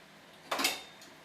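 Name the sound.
pasta dropped into a pot of water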